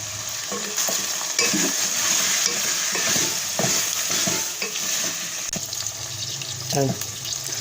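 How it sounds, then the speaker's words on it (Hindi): Mutton pulao base of garam masala, cinnamon, black pepper and yogurt sizzling in a pot while being stirred, with repeated clanks and scrapes of the spoon over a constant fizzing hiss and some running-water noise. "अब हम करेंगे इसे अच्छे से मिक्स कर देंगे।"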